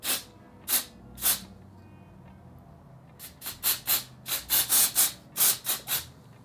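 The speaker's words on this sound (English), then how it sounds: "I sprayed so much" A handheld spray bottle misting in short bursts, two separate sprays and then a quick run of about a dozen hissing puffs close by.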